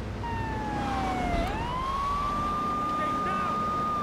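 A police car siren in the video game GTA III wails with a steady rising and falling tone, loud and fairly close, sustained across the whole stretch over a low engine rumble.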